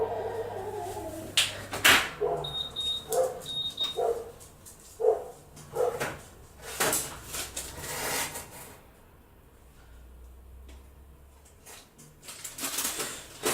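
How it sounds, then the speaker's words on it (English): Dogs shut outside a home kitchen bark in short repeated bursts, somewhat muffled and distant-sounding, with a few louder sharp yelps and quieter gaps in between. "Ignore the barking"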